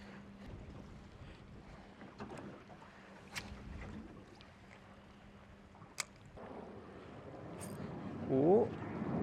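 Wind blowing across open water around a small fishing boat, a steady low rumbling buffet on the microphone with a few knocks and a brief voice near the end.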